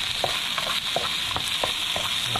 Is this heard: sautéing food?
yes